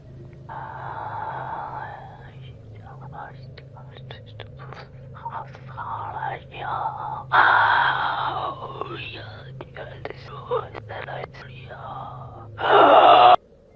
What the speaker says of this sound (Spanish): No era solo respiración. Era un murmullo.